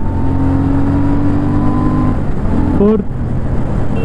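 Car engine pulling hard at high speed with a rising then steady drone and a brief gear change near the end, loud under road and wind noise, with someone talking over it.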